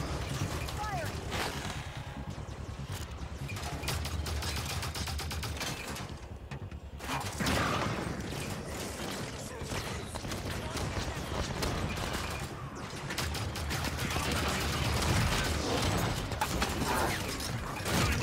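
Rapid Halo 5 gunfire crackles through a busy firefight, bursts repeating near and loud over swelling game music and effects, with a player talking now and then.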